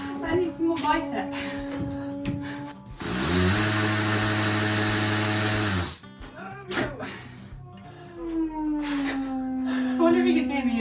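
A hammer drill bores into an indoor wall in one loud, sustained burst of about three seconds, with people talking before and after it.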